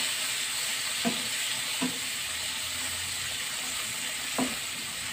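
Red and bird's-eye chilies, tomatoes, shallots and garlic stir-fried for anchovy and papaya-leaf oseng, a constant bright sizzle broken by three low spatula knocks against the pan, with no voices.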